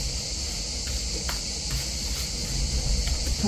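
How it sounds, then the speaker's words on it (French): Cicadas buzz in a steady, high continuous drone in the background outdoors in summer, with faint low rustling beneath and no talking. "Si vous entendez un peu des cric, c'est les cigales derrière"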